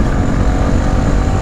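A 2020 Honda CB150R Exmotion 150cc naked motorcycle roars loudly and continuously through its exhaust while riding, a dense, close engine drone with no talking.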